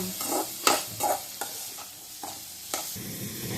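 Vegetables sautéing in oil in a pan, quiet sizzle with repeated clattering stirs and scrapes at an irregular pace, close by and without any voices.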